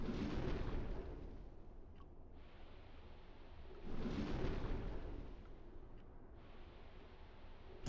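Three muffled torpedo launches from a Type IIA U-boat in the UBOAT game, each a deep rushing whoosh that swells and fades, spaced a few seconds apart, with no talk over them.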